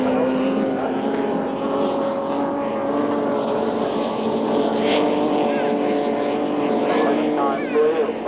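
Speedboats racing on Albert Park Lake in 1986, warm-up lap, engines droning loud and continuous with a high whine rising and falling, under a murmur of crowd and voices.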